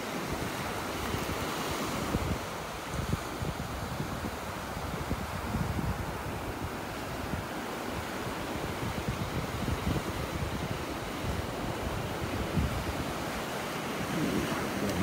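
Surf washing onto a beach in North Naples, Florida, a continuous broad rumble of breaking waves mixed with wind buffeting the microphone, steady and full throughout.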